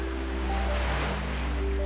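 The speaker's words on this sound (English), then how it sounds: "he could hear the sea crashing against the rocks" Sea waves break against coastal rocks in a continuous, soft wash of surf with a low, steady rumble, fairly faint and heard alone without voices.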